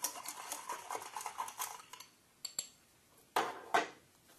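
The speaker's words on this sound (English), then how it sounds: "I'm just going to give that a little stir." Bar spoon stirring a raspberry mojito with crushed ice, giving a steady run of light clinking and scraping for about two seconds, then a few sharper, louder clinks of spoon against glass after a pause.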